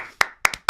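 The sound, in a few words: applause, clapping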